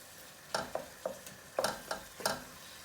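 Onions and tomatoes cook in a pan over a gas stove at medium-high heat, seven sharp spoon scrapes and stirs landing irregularly over a soft, low sizzle, with no talk.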